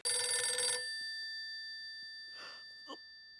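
A telephone bell rings loudly for under a second, then fades into quiet with a couple of soft knocks afterward.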